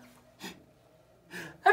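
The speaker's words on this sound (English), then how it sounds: "sneeze your sneezies out." Exaggerated sneezes performed in a children's theatre song, a quick inhaled gasp followed by two breathy bursts, the last one loudest, close and clear with quiet pauses between.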